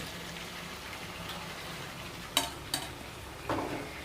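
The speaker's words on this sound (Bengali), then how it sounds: "এবার আমি সামান্য মাটন স্টক দিয়ে মাটনটাকে আবার একটু কষিয়ে নিচ্ছি।" Mutton sautéing in a pan with a splash of mutton stock, a soft low sizzle broken by a few sharp scraping stirs near the end, no voices.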